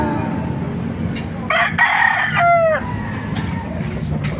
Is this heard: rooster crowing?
yes